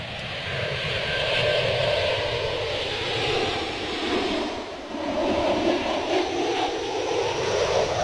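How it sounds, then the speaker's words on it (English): An EasyJet airliner pushes back at Bristol Airport with a steady, broad jet-engine roar that holds at a fairly loud, constant level throughout, with a slight dip midway and wind-like rushing noise. "There's an EasyJet pushing back there."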